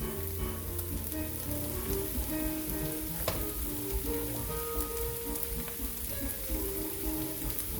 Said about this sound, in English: All right, I'm getting these shrimp turned over.